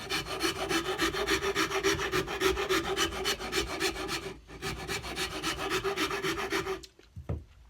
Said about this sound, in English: carve out the bottom or the inside of the neck part here